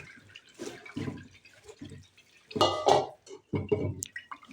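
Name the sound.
rinsing potato strips with water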